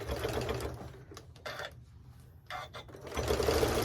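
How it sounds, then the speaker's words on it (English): A sewing machine stitches down the boxed corner of a quilted tote bag with flex foam, giving a close, steady rapid whirring with short pauses and a louder run at the end. "Just press it flat open, and we're going to stitch it down."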